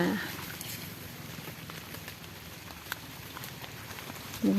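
Light rain falls steadily in a forest during a mushroom-foraging walk, a faint, even patter with scattered louder drops ticking close by.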